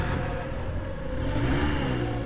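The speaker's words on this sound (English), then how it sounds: "In a panic, I tried to start the car again." A car engine revs, giving a continuous mid-pitched drone that rises slightly, heard on its own without voices.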